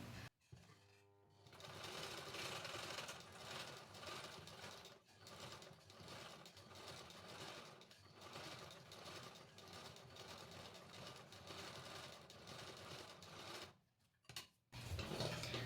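A sewing machine runs steadily while double-stitching a drop-shape sleeve, its fast mechanical whir and needle clatter close and continuous, pausing briefly near the end before starting again.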